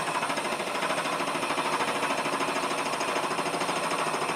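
A milling cutter works a metal angle plate on a machine, giving a loud, continuous rapid chattering hum with a steady pulsing rhythm that never lets up.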